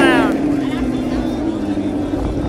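A Ford Mustang's loud engine revs and roars at an outdoor car show, its pitch sweeping up at the start before settling into a deep, rumbling idle that stays close and strong.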